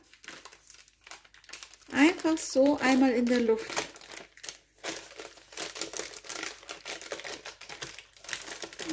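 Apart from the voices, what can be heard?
baking paper being peeled off a no-bake chocolate cake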